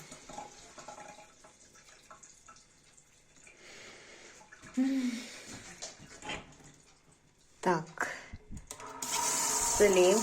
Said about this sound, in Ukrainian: Набираем, набираем, набираем, ждем горячую воду. Вот она потихонечку пошла.